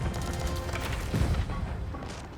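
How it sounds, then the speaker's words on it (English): Hui Pao cannons fire in Age of Empires IV battle gameplay, a dense barrage of overlapping booms and crashes rolling continuously amid game noise. "Cannons engaged in the Hui Pao."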